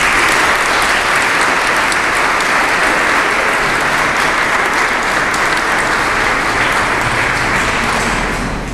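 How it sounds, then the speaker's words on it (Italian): A church congregation at a diaconal ordination Mass applauds loudly and steadily, a dense wash of clapping that fills the space and fades slightly at the end. "Fare un applauso a loro innanzitutto."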